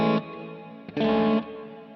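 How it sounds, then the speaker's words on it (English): Electric guitar chords played through a Joyo effects unit on a church reverb setting: two strummed chords, each ringing out into a long, smooth reverb tail, with no talking. "We can definitely try the church for sure."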